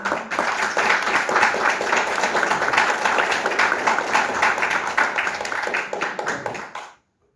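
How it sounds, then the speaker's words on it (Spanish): A large audience at a conference lecture applauds loudly and steadily for several seconds, the dense clapping fading out abruptly near the end. "Pido a esta linda sala un fuerte aplauso"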